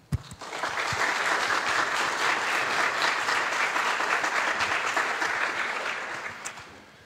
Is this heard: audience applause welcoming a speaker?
yes